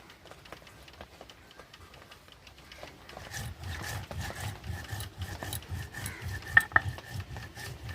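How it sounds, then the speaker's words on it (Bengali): Cumin is ground into a paste on a grinding stone for a Bengali fish recipe. A quiet scrape is followed by louder, rhythmic rasping strokes, repeated back and forth, with a couple of sharp clicks near the end. "জিরা বেটে নেব।"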